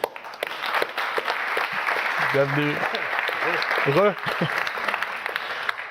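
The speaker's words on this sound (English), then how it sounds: "A big applause for him." An audience at an award ceremony applauds steadily throughout, with someone speaking briefly over the clapping midway.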